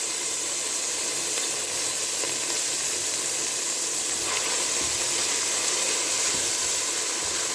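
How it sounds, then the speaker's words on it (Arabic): Garlic fries and is stirred in a pan alongside rice and vermicelli, giving a steady loud sizzle and hiss close by, with occasional faint scrapes of stirring and no talk. "هنا الثوم بتاعنا نقلب"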